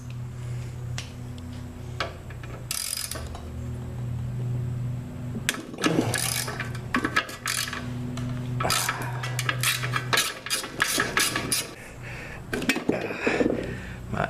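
A socket ratchet clicks while loosening bolts on a seized Predator 212 small engine left outside for five years, in bursts of rapid ticking with metallic clinks, close up, with someone talking at times.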